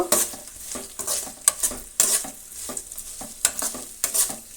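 Grated carrot fries in a pan, with a soft sizzle broken by repeated scraping strokes of a spoon stirring it, close and fairly quiet, about eight stirs in an uneven rhythm.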